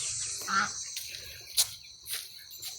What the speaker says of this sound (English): All my crazy ducks.